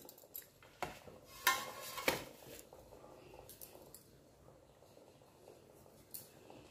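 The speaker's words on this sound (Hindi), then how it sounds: "अब हम इसको प्लेट में ट्रांसफ़र कर लेंगे" A steamed semolina snack is moved onto a plate: faint clinks, taps and scrapes of utensils against dishware, with a few sharper knocks in a quiet kitchen.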